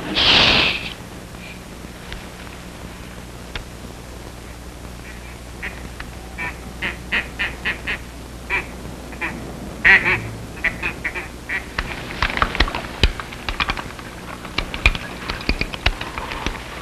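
Ducks quack in a scattered series of short, nasal calls that grow busier and louder toward the end, heard over a steady low hum after a brief loud burst at the start.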